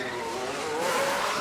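A Formula 1 race car whines past at close range in F1 Manager 24 during a pit stop at Imola, its engine tone rising and sliding in pitch over a brief, steady burst.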